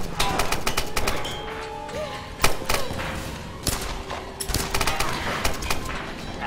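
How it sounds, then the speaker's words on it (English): Gunfire in the Tomb Raider game: a steady stream of sharp shots and crackling bursts at mid distance over busy game noise, with one louder shot standing out. "Accidentally shoots Lara"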